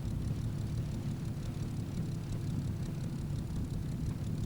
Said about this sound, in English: that engine, in fact, in that particular device is from a Centurion tank